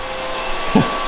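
Cryptocurrency mining rig fans on a computer run as a steady broadband whir close by, with a brief low thump near the end.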